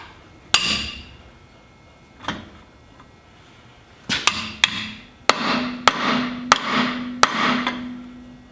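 Sharp metallic hammer blows strike a stuck bolt on a Jeep, a few scattered hits at first and then a quicker run of ringing clanks, close and loud.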